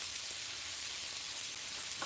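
Garlic hitting lean beef mince frying in oil gives a steady, even sizzle and crackle throughout, close and constant, with a couple of faint clicks.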